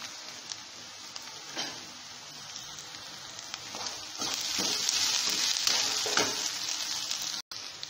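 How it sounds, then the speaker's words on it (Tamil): Green chillies and curry leaves frying in hot oil while being stirred in a pan for chana masala, a steady close sizzle with scraping stir strokes that swells louder partway through. "ஆட் பண்ணி நல்லா கிண்டிக்கலாம்."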